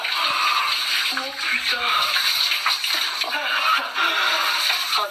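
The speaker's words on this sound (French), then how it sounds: "T'as vu, c'est comme un jet d'eau." A shower sprays water hard like a jet, a loud continuous hiss and splash close by, with a person speaking and exclaiming over it.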